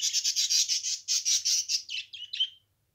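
Pet parrots squawk harshly while fighting, a rapid run of loud, raspy calls close by that break into shorter squawks before falling silent.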